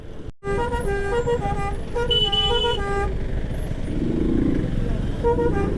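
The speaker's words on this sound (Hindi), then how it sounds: "गाने वाला हॉर्न लगा रखा लोंडे ने।" A musical car horn plays a quick tune of bright, stepped notes over steady road and engine noise on the Manali to Delhi road, loud and close, with a voice briefly audible.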